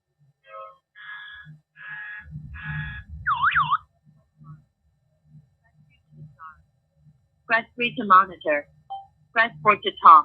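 Tones and a ringing call from a home security alarm system's SIM automatically phoning the owner's mobile, heard in short beeping bursts with someone speaking between them, close and clear.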